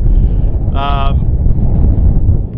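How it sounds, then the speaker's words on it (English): Strong gusty wind buffets the microphone outdoors beside a tripod-mounted drone, a loud low rumble throughout, briefly joined by a short whirring tone. "It's really windy."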